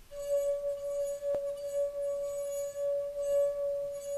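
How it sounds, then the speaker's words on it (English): A wet fingertip circling the rim of a wine glass makes it sing with a single steady, pure ringing tone that holds evenly throughout, with one brief tap partway through. "when I rub my finger around the rim of the glass"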